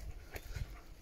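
A long-haired malamute whimpers softly, with a few faint, brief whines and breathy sounds over a quiet background.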